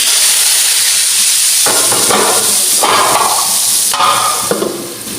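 Chopped garlic hits hot oil already tempered with nigella seeds and cumin, raising a loud, steady close-up sizzle and hiss, with a few scraping stirs breaking through the frying.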